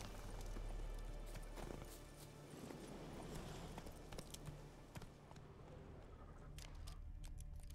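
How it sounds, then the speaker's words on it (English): Geralt's horse Roach in The Witcher 3 gallops with steady, fairly loud hoofbeats under continuous game ambience, with an occasional snort or whinny mixed in. "And let me call my horse."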